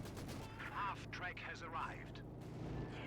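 Pack howitzer artillery fire in a World War II strategy game, several booming shots and explosions rolling under a caster's excited commentary.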